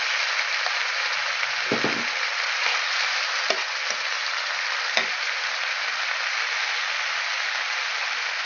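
A mustard mixture and pieces of young jackfruit fry in a pan for polos moju, giving a constant loud hiss with a few brief clicks and knocks from stirring.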